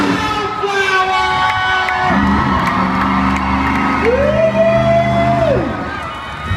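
A crowd at a county fair monster truck show cheers and whoops for the Wildflower truck, a loud roar under rising and falling engine revs and an announcer's amplified voice.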